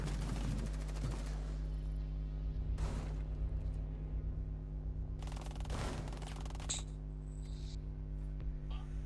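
Automatic gunfire in the Rainbow Six Siege video game: a few rapid bursts of shots, near and sharp, over a constant low background tone.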